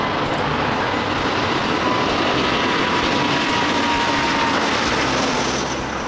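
An Airbus A330-900neo passenger jet airliner gives off a loud, continuous broadband engine roar that holds steady throughout, with no voices.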